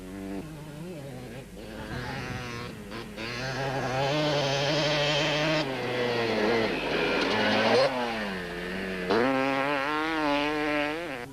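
Two-stroke Yamaha and Kawasaki KDX 200-class off-road motorcycles racing in the 1996 Toyota 1000, a loud, continuous buzzing drone whose pitch rises and falls as the bikes rev and shift, close by and alone throughout.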